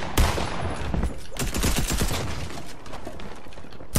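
Rapid video-game gunfire in a Fortnite Season 9 match: dense bursts of automatic shots and volleys, loud and close, continuing almost without pause across the whole stretch.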